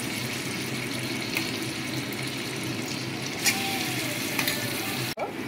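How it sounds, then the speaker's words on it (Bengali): Marinated chicken with yogurt hits a hot pan and sizzles in a steady, moderate hiss, with a brief clatter near the end. "আমি ম্যারিনেট করা চিকেনটা সমস্তের মধ্যে দিয়ে দেবো।"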